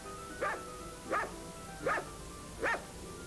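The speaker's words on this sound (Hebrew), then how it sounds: "שבליל ירח נבחה הכלבה" A female dog barks four times at an even pace, each bark a short, moderately close yelp over faint background hiss.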